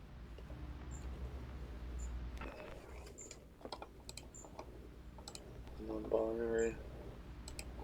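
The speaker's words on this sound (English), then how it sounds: "let's type in the info" Computer keyboard typing clicks lightly and irregularly, faint and close, amid room noise with a voice speaking briefly in the background.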